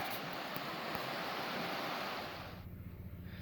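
A two-wheel-drive truck drives through a shallow creek about six inches deep. A soft, continuous rush of water and road noise eases off near the end, with no voices.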